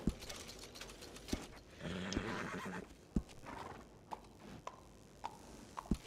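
A horse in a video game whinnies and snorts, with a louder neigh around the middle and scattered clip-clop hoof taps and clicks spread across the moment.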